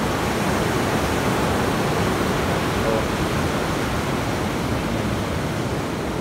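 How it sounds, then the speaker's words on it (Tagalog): Strong ocean waves at a tide pool, a dense continuous roar of surf and rushing water close by, steady and loud, with a brief exclamation from a person. "Ang lakas ng alon."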